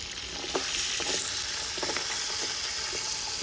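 Green chillies frying in hot oil for a chicken sambar, a steady bright sizzle with occasional soft stirring taps, close and continuous with no talking.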